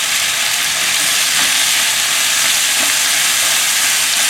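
Beef and shiitake mushrooms stir-frying with oyster sauce in a hot pan, a steady, loud sizzle with crackling and hiss running unbroken throughout.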